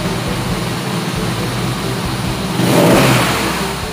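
A BMW engine revs up inside a dealership showroom, a steady smooth idle swelling into a louder rev near the end before easing back, heard alone without talk.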